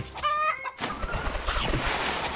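A video game chicken gives a sharp cluck near the start, then busier game noise and bird sounds carry on for a couple of seconds.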